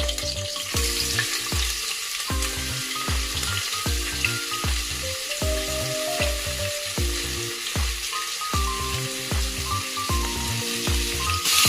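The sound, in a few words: onions frying in a pan for biryani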